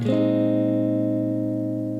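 On an acoustic guitar, a single strummed chord with a low bass note starts with a bright attack, then rings out and slowly fades. The sound is close and clear with no voice.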